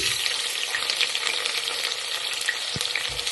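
Onion frying in hot oil with mustard seeds and cumin for a soya vegetable pulao, a steady close crackling sizzle with no voices and one brief low knock near the end.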